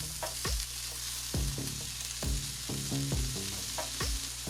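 Ground turkey sizzling on an oiled griddle, with loud steady frying crackle broken by repeated scraping and stirring strokes of a spatula, close up and with no talk.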